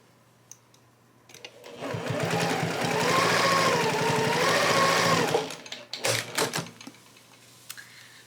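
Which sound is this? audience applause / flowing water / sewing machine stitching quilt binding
sewing machine stitching quilt binding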